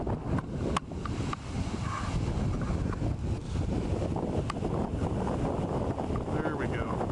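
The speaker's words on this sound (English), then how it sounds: "here in Chile, the wind just blows" Strong wind gusting outdoors on a farm in Chile, with steady loud rushing and buffeting against the microphone throughout.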